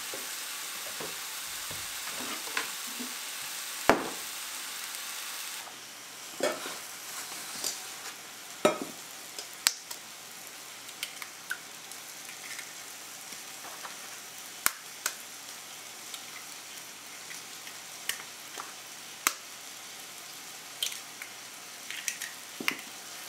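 Meat cooks in a pan for breakfast sandwiches with a continuous soft sizzle, broken by frequent sharp pops and clicks of spattering fat and occasional utensil stirs. It stays close and alone, with no talking.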